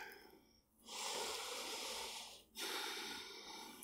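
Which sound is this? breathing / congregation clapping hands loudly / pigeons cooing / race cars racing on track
breathing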